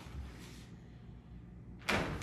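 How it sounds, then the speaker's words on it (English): A dog crate door opening in a quiet room, with a low muffled rumble followed by a single sharp metallic clack near the end, close and alone. "Door opens."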